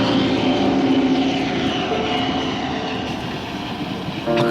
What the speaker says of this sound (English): I heard the familiar sound of an approaching Deltic